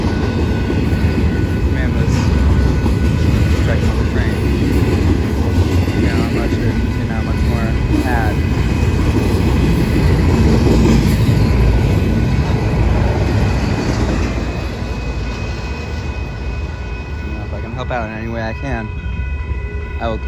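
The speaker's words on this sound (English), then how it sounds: "Train westbound on track 1." A westbound train passes on track 1 on the Hannibal Sub, a loud, sustained rumble and rattle of rail cars close by that eases toward the end, with people talking over the noise.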